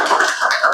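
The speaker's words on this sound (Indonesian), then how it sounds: "Tepuk tangan dulu." A classroom of students claps hands together in a short, dense burst of close, bright claps with no talking.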